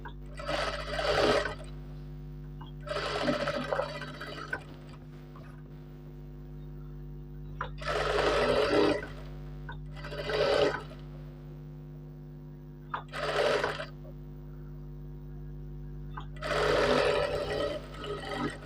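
A sewing machine stitches a shirt in several steady runs of rapid mechanical chatter, each lasting a second or two, separated by quiet pauses over a constant low hum.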